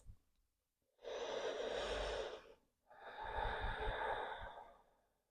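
Slow, audible breathing during a yoga forward fold: a soft breath, then two long, close-up breaths of about one and a half seconds each, airy and quiet with a slight sigh.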